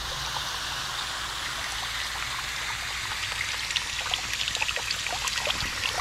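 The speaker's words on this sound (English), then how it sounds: "Let me turn the water on." Tap water runs through a hose into a window screen cleaner, a steady close hiss of flowing and splashing water that continues without a break.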